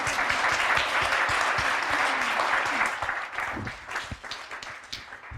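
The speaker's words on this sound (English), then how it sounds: "we should clap. Let's clap." An audience at an education event applauds together, the dense clapping strong at first and thinning into scattered claps by the end, with a little murmur underneath.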